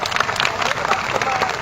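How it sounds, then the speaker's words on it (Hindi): Dense, steady applause from a rally audience welcoming a speaker, with crowd murmur mixed into the clapping throughout. "एक बार जोरदार तालियों से रामदेव भाई का स्वागत करें"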